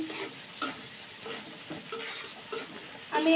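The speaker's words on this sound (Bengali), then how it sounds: "দেখুন, আমার পেঁয়াজটা একটু ভাজা ভাজা হয়ে এসেছে।" Onions and green chilies fry in a pan, a soft steady sizzle broken by repeated scraping and clinking as a spoon stirs them in a regular rhythm.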